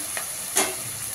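Ginger garlic paste fries in a pan for a green chicken curry, a steady soft sizzle with a single brief scrape of a spoon, close and alone without any voices.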